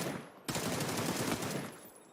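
Gunfire bombardment in PUBG erupts suddenly after a brief lull, a dense, rapid, distant-sounding volley of shots that continues steadily before tapering off.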